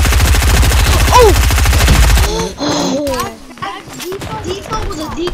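Rapid automatic gunfire from a video game rattles loudly for about two seconds, then gives way to scattered game sounds while a player talks excitedly over them.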